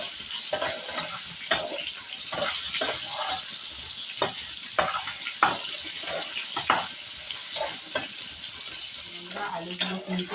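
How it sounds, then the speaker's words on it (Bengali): Potatoes frying in oil for a mango and shol fish dish, a steady close sizzle broken by repeated stirring scrapes and clatters, with no one speaking. "আলুগুলোকে আমি তেলে ভেজে নেব।"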